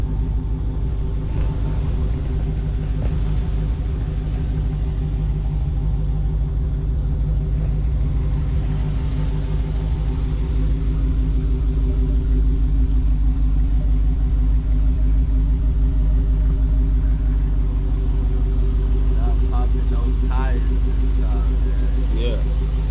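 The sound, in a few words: Redeye Hellcat car engine while sliding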